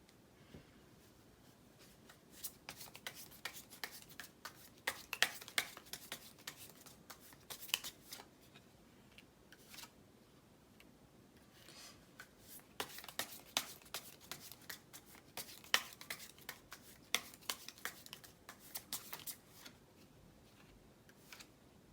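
Tarot cards shuffled by hand in a quiet room, heard as repeated brisk papery riffling bursts that come in clusters across the whole stretch, fairly close and soft, with no talking.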